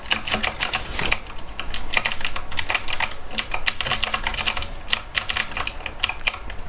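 Rapid, steady key clicks from a new Razer keyboard, close and fairly loud, with dense overlapping keystrokes continuing without pause and no talking.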